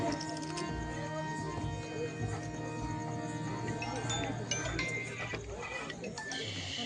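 Horse hooves clip-clop in a steady rhythm as a drama sound effect, under continuous voices and music-like tones.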